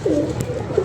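A flock of about thirty pigeons coos in a low, throaty murmur, a couple of rising coos standing out briefly, fairly close and without speech.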